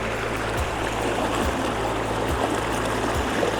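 Shallow creek water runs over small rock ledges at a campground, a steady close rushing babble with a faint soft periodic thump underneath and no voices.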